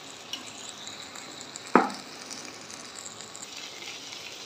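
Mushroom stems stir-fried in a pan for a vegetarian dish give a soft steady sizzle, broken by one sharp clang of a utensil against the pan, close and fairly quiet, with no speech.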